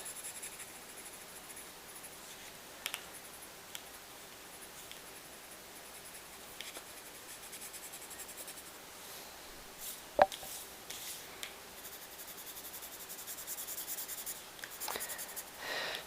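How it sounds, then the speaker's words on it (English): Pencil lightly coloring in the background of a coloring book page, a very faint soft scratching and rubbing with occasional small taps, quiet and close, with no talk. "just going to super lightly pencil that in around and about"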